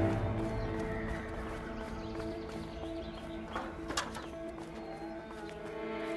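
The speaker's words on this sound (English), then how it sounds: "How do you know they got horses in there? It's a horse barn, Leo." Horses shuffle and clop inside a barn on a farmstead in the video game A Way Out, with faint whinnies and bird coos in a busy game ambience.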